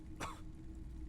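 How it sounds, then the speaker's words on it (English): A character in the video game Disco Elysium lets out a single short, rough cough, close and fairly quiet over a low steady background hum. "He coughs, as if to mark his words."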